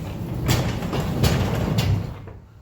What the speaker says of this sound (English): let's roll open the garage door